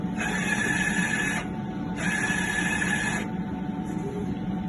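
DTF printer running a nozzle test after head and wiper cleaning, giving two steady mechanical whirring bursts of about a second each with a brief third start, over a constant background hum; no one speaks.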